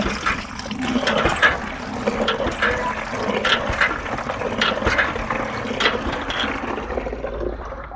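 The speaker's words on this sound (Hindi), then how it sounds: "तीसरी मर्तबा फिर हम पानी भरेंगे पाक इसी बाल्टी के अंदर" Water gushes steadily into a bucket used for rinsing clothes, a close, continuous pouring rush with some clunks and rattles and no talk.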